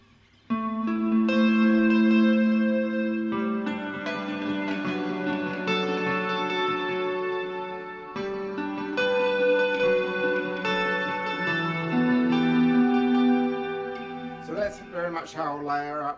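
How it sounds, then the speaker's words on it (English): Sustained electric guitar chords ring out with long, washy reverb tails and delay repeats layered behind them, notes blooming and overlapping before a brief picked flourish at the end. "how I'll layer up between the reverbs, delay, and into the second reverb"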